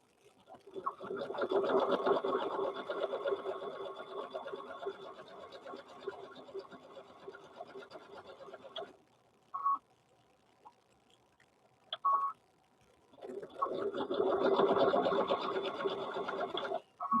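Sewing machine stitching fabric for a stuffed bear runs in long steady buzzing bursts, stopping for a few seconds with brief clicks before starting again, loud and close.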